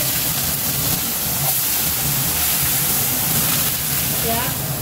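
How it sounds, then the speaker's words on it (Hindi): Onions fry in a pan with a steady, loud hiss and sizzle that holds evenly throughout, with no breaks. "चले आइए इसका प्याज फ्राई करूँगी"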